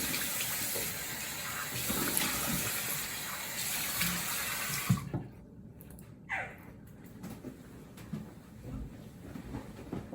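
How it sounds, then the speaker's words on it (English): Tap water runs steadily as a face is washed after a safety razor shave, then cuts off abruptly, leaving quieter splashes and dripping near the sink. "let's wash off real quick"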